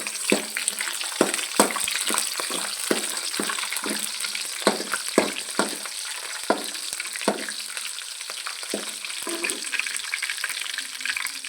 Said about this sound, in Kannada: ಬೆಳ್ಳುಳ್ಳಿ ತುಂಬ ಚೆನ್ನಾಗಿ ಬರುತ್ತೆ ಮತ್ತು ತುಂಬ ಚೆನ್ನಾಗಿರುತ್ತೆ. ಈಗ ಸ್ವಲ್ಪ ಫ್ರೈ ಮಾಡ್ಕೊಳ್ಳಿ.